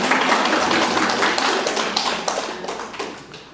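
An audience at a Korean Catholic Bible lecture on the Psalms breaks into brisk applause, many hands clapping close and loud at first, then gradually thinning and fading.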